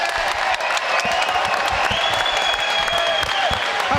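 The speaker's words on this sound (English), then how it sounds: "please give a round of applause to these 2 competitors" An arena crowd at a boxing event applauds the two competitors after their fight, a sustained wash of clapping mixed with a few cheers, while a voice carries over the top.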